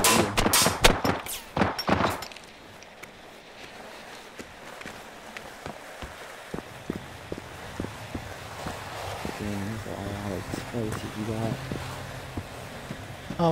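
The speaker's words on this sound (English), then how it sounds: "Dude, stop shooting." Gunfire in the open-world shooter Generation Zero, a rapid cluster of loud shots at the start followed by footsteps and rustling movement, with voices talking over the action.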